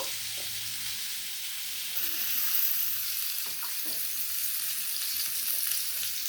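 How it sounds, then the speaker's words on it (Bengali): Chopped onions fry in oil with a steady, moderate sizzle, a few soft stirring scrapes and clinks scattered throughout. "এখন রান্না শুরু করছি। এখানে দিয়ে দিচ্ছি পেঁয়াজ কুচানো"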